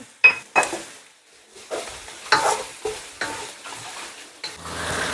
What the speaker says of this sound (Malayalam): അപ്പം നല്ലോണം ഇളക്കി കൊടുക്കുക.